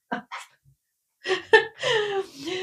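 A dog plays with a squeaky ball toy indoors, giving a few short squeaks and yelps in separate bursts, then longer whining squeals near the end, fairly close and loud.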